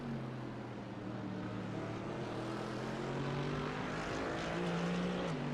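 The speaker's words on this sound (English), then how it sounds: "Angry AMG noises." A Mercedes-AMG race car engine in iRacing drones steadily with rising, sustained tones, loud and continuous throughout, with no talk over it.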